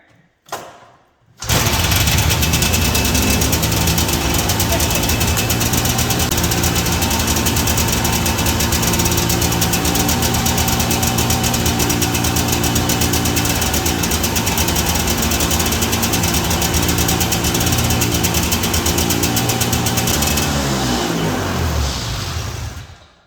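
An old John Deere Liquifire 440 tractor engine from a barn find runs loud and steady with a rough, rattling knock, starting after a brief sputter and cutting off near the end.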